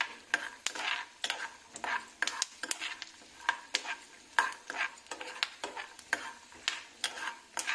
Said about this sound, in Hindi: इनको घी में तल रहे हैं